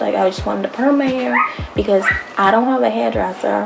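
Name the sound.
dog barking and whimpering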